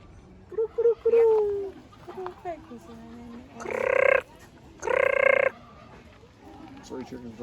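Fowl at Heritage Park in Calgary call out in several bursts. Two loud, harmonic, gobble-like calls stand out among shorter clucks and squawks nearby, mixed with some background voices.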